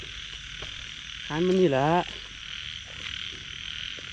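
A frog calls once at night in a rural Thai field during frog hunting, a loud harmonic croak of under a second standing out over a steady insect drone, with someone speaking nearby.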